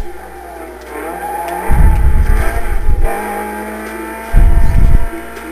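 A racing car's engine in Need for Speed: Most Wanted surges twice with nitrous, each a loud, deep roaring burst lasting a second or so, over a constant lower engine drone and faint road noise.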